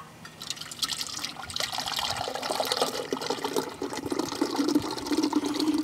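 Chilled vanilla egg ice cream mix poured into the canister of an 8-quart Immergood electric ice cream freezer, a steady close liquid gush and trickle building over several seconds.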